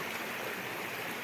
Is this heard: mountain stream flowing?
yes